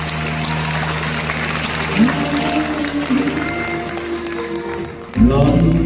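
Applause from a concert crowd at a show continues beneath people speaking and some tonal sounds, then slowly thins out before music or a voice comes in at the end.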